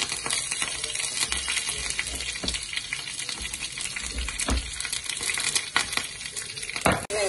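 Mustard seeds frying in a pan alongside dried red chillies, a loud continuous sizzle with scattered popping and crackling and a few low knocks, no speech.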